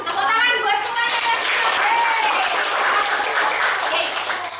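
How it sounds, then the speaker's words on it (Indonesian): Loud, sustained applause from a group of schoolchildren fills the whole stretch, with a voice briefly audible at the start. "Tepuk tangan buat semuanya."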